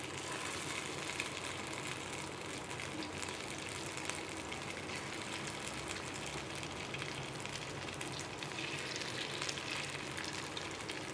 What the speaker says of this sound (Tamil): இப்போ இதை ஆயிலில் போட்டு ஃப்ரை பண்ணிக்கலாம்